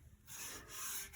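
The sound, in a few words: sanding a guitar body with a 2500 grit sanding pad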